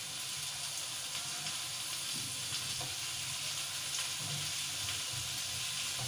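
Roughly chopped tomatoes hitting a hot pan for curry gravy, giving a steady, dense hiss of sizzling that continues evenly throughout, close up, with faint stirring underneath and no voices.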